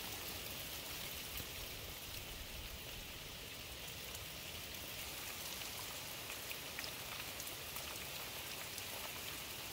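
Hail or heavy rain pounding down outdoors in Al Mahwit, Yemen, a dense, steady hiss of drops striking surfaces that holds at an even loudness throughout, with no voices.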